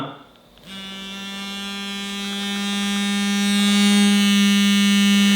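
A Mi electric toothbrush switches on after a short pause, a steady electric buzzing hum running continuously, a close, strong motorized vibration with a constant pitch.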